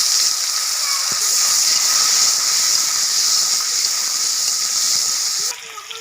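Potatoes sizzle loudly and steadily in hot oil with panch phoron, a constant bright hiss that suddenly drops off near the end.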